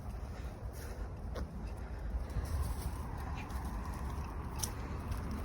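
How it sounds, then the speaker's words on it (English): Birds call faintly and intermittently at a small pond or lake in Nanjing, China, with a few brief higher chirps above a steady outdoor rumble of wind and distant traffic. "So many birds"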